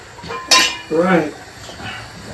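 Dry pasta dropped into a metal cooking pot in a home kitchen, a sharp clattering rattle followed by a brief rustling, scraping tumble, close and fairly loud.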